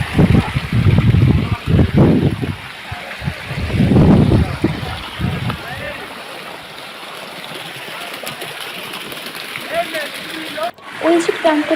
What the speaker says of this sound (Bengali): আমরা খোয়াছড়া ঝর্ণার নবম ধাপে এসে গেছি।